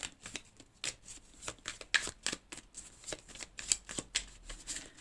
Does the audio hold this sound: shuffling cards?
yes